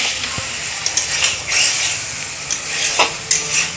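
Potatoes are stir-fried in a pan, with a steady close sizzle broken by repeated scraping and clinking of a spatula against the pan.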